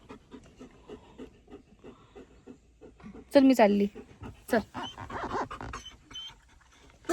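A pet dog pants in quick, rhythmic bursts close by, while people talk over it and a louder voice cuts in partway through.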